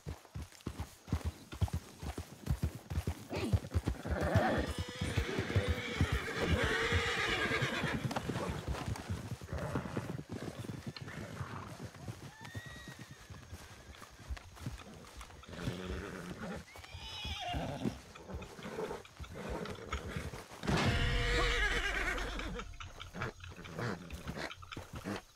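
Horses gallop and neigh in the RedM western roleplay game, rapid hoofbeats running throughout with repeated whinnies layered over them and a heavy low thump late on.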